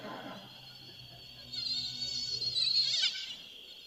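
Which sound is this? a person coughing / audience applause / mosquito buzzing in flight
mosquito buzzing in flight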